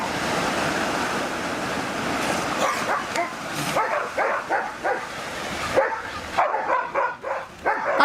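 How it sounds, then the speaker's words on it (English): A dog barks several times at a sea lion on an Australian shore, the sharp barks cutting through steady surf and wind noise. "That's a dog."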